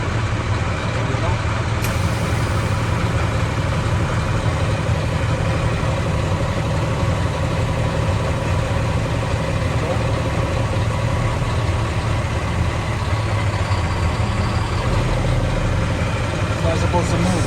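A tractor-trailer truck engine idles at an even, unbroken rumble throughout, close and fairly loud, with someone talking over it.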